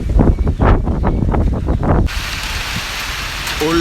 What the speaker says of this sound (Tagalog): Pero lakas ng hangin, tapos may fogs pa.